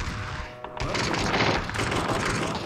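Rapid gunfire in a Korean battle-royale video game shooter, a dense, loud burst of shots that runs almost nonstop across the whole moment, with a short lull before it.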